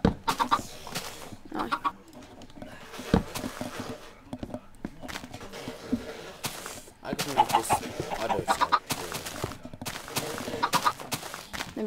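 Chickens in the video game Minecraft cluck in short, repeated bursts over game sound effects, with someone talking intermittently in the background.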